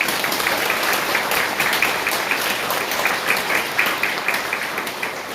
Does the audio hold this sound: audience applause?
yes